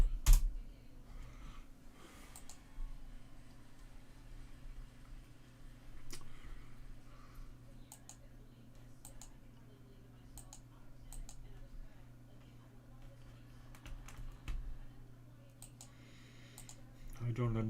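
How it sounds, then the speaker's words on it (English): Computer keyboard keys clatter in scattered bursts of quick clicks with pauses between, close to the microphone over a low steady electrical hum, with brief talking mixed in. "Now let's try typing pip."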